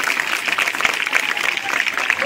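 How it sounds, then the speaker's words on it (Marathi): A school audience claps loudly, with dense, continuous applause that holds steady throughout. "मोठ्यानं टाळ्या झाल्या पाहिजे."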